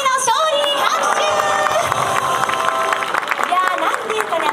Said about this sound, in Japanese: スライディの勝利、拍手。